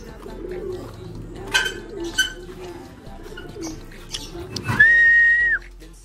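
Pigeons cooing softly in a loft, low throaty coos repeating under background noise, with a short whistle-like call near the end.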